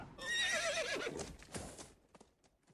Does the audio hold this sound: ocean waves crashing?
no